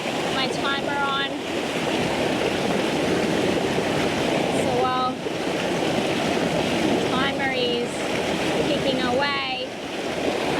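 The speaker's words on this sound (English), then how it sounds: "I wanted to show a waterfall that wasn't as calm and graceful as you'd expect from her name" A turbulent waterfall throwing off heavy spray roars as a loud, continuous wash close by, with a voice talking intermittently over it.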